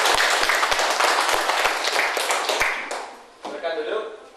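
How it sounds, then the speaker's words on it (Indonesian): A classroom audience gives a presenting student group a burst of loud, continuous clapping that fades out after about three seconds, then a voice speaks. "Kita beri sekali lagi aplaus untuk kelompok 3"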